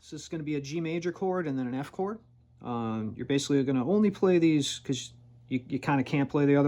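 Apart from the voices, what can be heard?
No distinct noise like a dog, phone or traffic.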